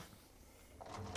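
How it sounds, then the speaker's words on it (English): Lower dish rack of a Whirlpool, KitchenAid or Maytag dishwasher rolling out on its rails, a short scraping slide that ends in a louder clack near the end, heard close with no talk. "pull out the lower rack"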